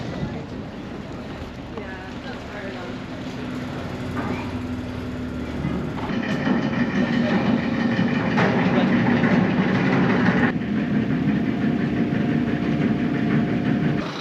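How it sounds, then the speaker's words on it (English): A ferry's engine rumbles in a loud, steady drone throughout the crossing, with a deeper surge and more rattle partway through, and people talk over it. "onto the ferry, and fingers crossed we get to see some koalas at the other end"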